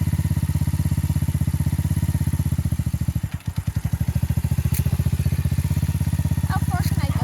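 Motorcycle engine idling close by with a steady, loud, pulsing chug and a brief dip partway through, with some voices underneath.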